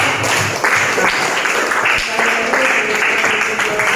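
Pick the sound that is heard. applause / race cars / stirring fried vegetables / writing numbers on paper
applause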